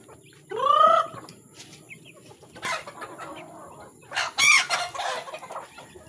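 Backyard chickens being fed cluck loudly and close by, with a rising squawk early on and more bursts of clucking scattered through the rest.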